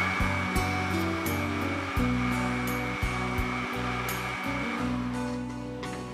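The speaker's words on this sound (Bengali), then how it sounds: "আবার এটাকে একটু ব্লেন্ড করতে হবে।" A blender whirs steadily through a batch of green mango juice sweetened with extra sugar, a loud, even motor drone with shifting pitch that runs for the whole stretch.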